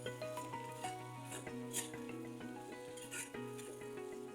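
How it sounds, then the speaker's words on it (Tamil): Ground peanut powder being stirred into bottle gourd frying in a pan, a soft close sizzle with the scrape and clink of a spoon against the pan in uneven strokes. "இப்போது அரைச்சி வச்சுருக்கிற வேர்க்கடலை பொடி அதில் சேர்த்துட்டு நல்லா கொஞ்சம் கிளறிட்டுக்கலாம்"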